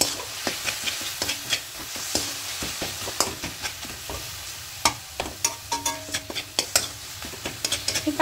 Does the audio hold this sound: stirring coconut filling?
yes